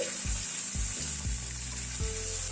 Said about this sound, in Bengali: হালকা একটু নাড়াচাড়া করে নিলাম